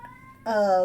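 An old cat yowls to be let outside, a single loud, drawn-out call that starts abruptly after a quieter moment and holds strongly to the end, close to the listener.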